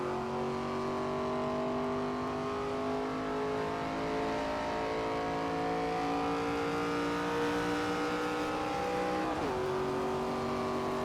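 A NASCAR stock car's engine in the NASCAR 25 racing game, a steady, loud, droning roar holding a constant pitch for about eleven seconds, with a brief dip near the end, alone without talk.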